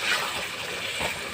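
Water poured into a pan of cooked-down spice masala for a potato and bhola fish curry, a steady, close gushing splash lasting about a second and a half.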